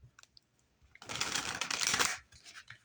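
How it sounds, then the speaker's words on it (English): A brief riffle of tarot cards being shuffled, a quick papery flutter lasting about a second amid faint taps, heard close up. "One more shuffle."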